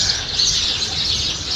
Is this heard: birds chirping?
yes